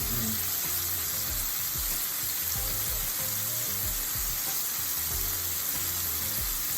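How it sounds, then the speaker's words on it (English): A steady, dense sizzle of vegetables frying in butter and oil in a hot pan fills the whole stretch, loud and close, with faint clinks and stirring underneath. "Listen to that sizzle."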